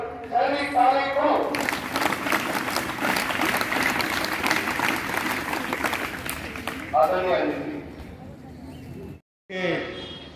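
Audience at a Guru Purnima Vyas Puja celebration in a DAV school hall clapping together, a dense sustained applause lasting several seconds, then a brief pause and more clapping with voices mixed in.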